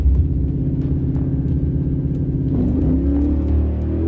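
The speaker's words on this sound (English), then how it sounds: "Once again, the car slips the tires as it leaves." A drag race car's engine drones loudly with a steady low rumble at Edgewater, then its pitch bends as the tires slip during launch.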